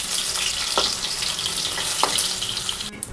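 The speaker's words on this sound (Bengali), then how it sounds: "এভাবে পটলগুলিকে তেলের মধ্যে ভেজে নেব।" Pointed gourds stuffed with potato and coated in gram flour batter fry in a pan of oil, making a constant close sizzling hiss broken by a couple of brief sharp spits and a small clatter near the end.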